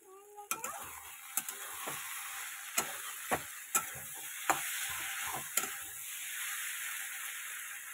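Fish frying in a pan with garam masala, a soft background sizzle punctuated by a series of sharp, evenly spaced metallic taps and scrapes of a spatula, close and unaccompanied by talk.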